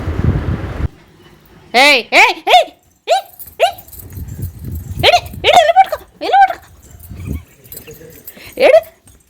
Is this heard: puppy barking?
yes